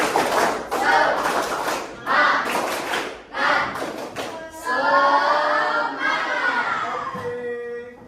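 A classroom of students claps a rhythmic spirit-clap pattern together, several bursts of sharp group clapping in a steady beat, followed by a mix of voices and murmur near the end.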